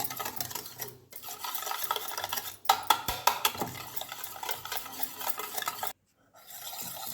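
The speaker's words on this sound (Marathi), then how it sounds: "दोन छोट्या वाट्या साखर आणि पाणी घालून हे व्यवस्थित मिक्स करून हे पातळ करून घ्यायचं आहे" Spoon stirring yogurt with sugar and water in a bowl, a wet, scraping swish with brief clinks against the sides, steady and close with a couple of short pauses.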